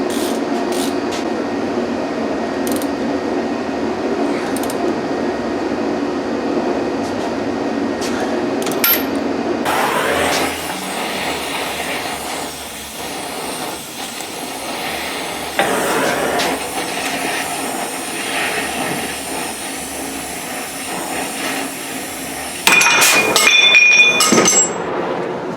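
A Pitman arm puller working on the Pitman arm of a 1992 Ford F150 during a suspension lift, producing a loud, continuous hiss and rumble with metallic clinks and a sharper burst near the end.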